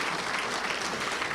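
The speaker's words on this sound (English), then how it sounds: "Let's give him a round of applause." Crowd applause at a Little Rock Touchdown Club luncheon, a brief dense burst of many people clapping.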